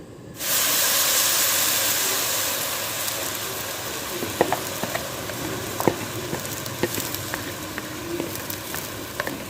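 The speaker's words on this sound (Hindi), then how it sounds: "प्याज हम अच्छे से फ्राई कर लेंगे, इसका अच्छा ब्राउन हो जाएगा, गोल्डन शक्ल आ जाएगी।" Two large chopped onions hit hot ghee in a karahi with a sudden loud hiss that settles into a steady close sizzle, sprinkled with small pops and crackles.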